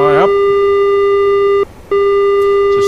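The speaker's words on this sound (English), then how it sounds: "you see that beeps on for a long time now, saying it's close, danger" A-4E Skyhawk terrain warning in DCS World: a loud, continuous electronic beep tone holds steady, breaks off briefly near the end, then resumes.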